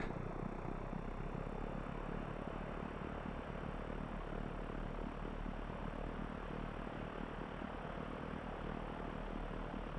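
The propeller engine of an Alabeo M20R Ovation in a flight simulator drones steadily and loudly at 1000 RPM, an unbroken even hum with no talk over it.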